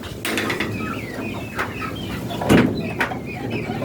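Chickens on a house rooftop cluck and chatter in short, scattered calls over a steady ambient hum, with a brief louder rustle or clank partway through.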